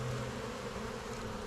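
Dense, steady buzzing of many bees at a beehive at a château apiary while a hornet prowls near the entrance. The humming swarm sounds close and continuous, with no voices.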